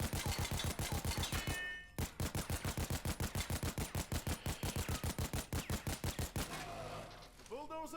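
Rapid single shots from a weapon in PAYDAY 2, a long fast run of evenly spaced loud reports in close succession, a brief break near the start, then more firing tapering into a reload-like clatter at the end.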